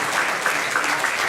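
Dense, continuous applause fills a hall at a tribute to Alicia Eguren, a loud, even roar of many hands clapping with no break.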